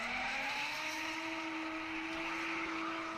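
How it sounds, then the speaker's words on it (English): A drift car spins a donut at a British Drift Championships qualifying round at Teesside, its engine holding a high, steady rev whine with tire noise over distant crowd-like ambience, continuous for a few seconds. "Upshift mid-donut, keep the wheels spinning."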